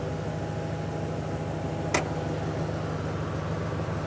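A car engine idles smoothly and steadily through an aftermarket intake with the hood open, a low even hum close by that stays constant, with one brief click partway through.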